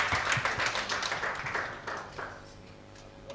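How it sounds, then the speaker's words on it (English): An audience at an artificial intelligence community meetup claps briefly, a burst of scattered hand claps that thins out and fades within a few seconds. "Let's clap for him."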